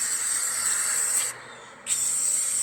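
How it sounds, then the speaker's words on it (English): A steady hiss of spray paint from an aerosol can onto brake drums, close and continuous, cut off by a brief pause near the middle before resuming. "He's spray painting drums on brakes that don't work."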